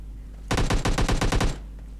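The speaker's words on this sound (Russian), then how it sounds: "По мне стреляет или в кого?" Automatic gunfire in the mobile game PUBG Mobile: one loud, rapid burst of about a dozen closely spaced shots lasting roughly a second, up close and alone, then ending abruptly.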